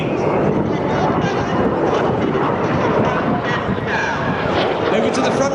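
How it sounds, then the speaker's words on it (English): Red Arrows display jets roaring overhead at the Clacton air show, a steady loud broadband rush of engine noise that holds throughout with little change in level. "This lone jet will now fly in between them."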